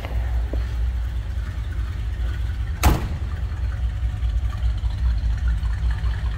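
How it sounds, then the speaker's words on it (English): A 1958 Ford Fairlane 500 convertible's V8 with a mild stock exhaust idles steadily at close range, a continuous low rumble with one brief sharp knock near the middle and no talk. "Just kind of a nice little rumble coming out of that V8."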